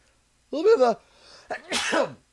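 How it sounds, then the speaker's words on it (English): A person sneezes twice in quick succession, loud and close, with a short breathy pause between the two bursts. "sneezing problem apparently."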